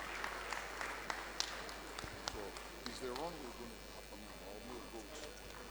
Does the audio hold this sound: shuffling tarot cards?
no